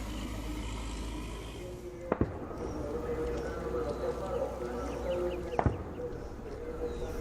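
Two sharp, distant gunshots ring out a few seconds apart over a low background rumble and faint voices, during the Marawi siege, with loudspeakers broadcasting in the city.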